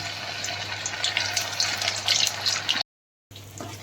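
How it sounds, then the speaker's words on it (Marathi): Cornflour-coated paneer cubes deep fry in hot oil over a high gas flame, giving a steady hiss with bursts of crackling sizzle, cut by a short silent gap before the frying resumes. "आता आपण जे पनीर कॉर्नफ्लॉवरमध्ये आपण मिक्स केलेलं आहे ते आपण आता डीप फ्राय करणार"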